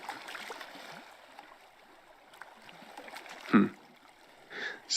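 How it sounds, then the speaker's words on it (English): Water splashes and laps steadily in the Somnium Space VR world, with a few louder splashy swells near the end over a continuous gurgling wash; no voices. "if you get something close enough to the water, you can kind of hear the water just splashing around"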